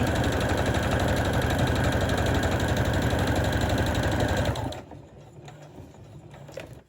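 A sewing machine runs steadily, stitching the folded binding of homemade fabric bunting, a dense mechanical whir that stops abruptly near the end and leaves quiet room tone.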